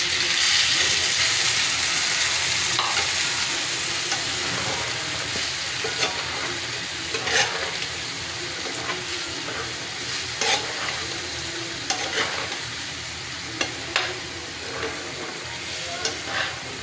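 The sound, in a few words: sautéing spices in a frying pan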